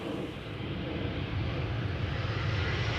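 Airliner touching down at Amsterdam Schiphol with a brief burst of thrust reversers, a broad distant roar building slightly and sustained, heard from afar without talk.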